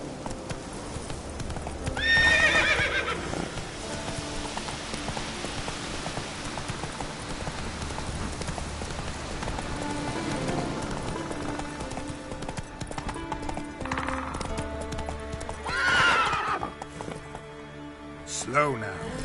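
Roach the horse galloping in The Witcher 3, rapid hoofbeats running continuously with whinnies near the start and later, over falling rain, while a voice speaks at times.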